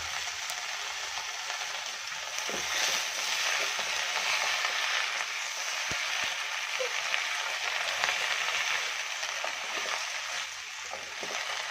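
Palak spinach leaves frying in oil for paneer pulao make a continuous dense hiss and crackle, steady and fairly close, with occasional faint clicks and no voices.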